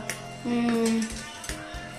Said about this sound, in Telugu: నేను ఫిష్ని వండుతున్నాను, కలుపుతున్నాను.